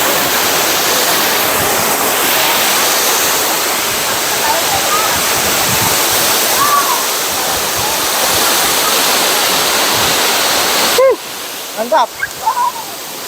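A steady, loud roar of a waterfall fills the whole clip, rushing water close by with wind gusting off the falls; near the end a voice speaks briefly over it.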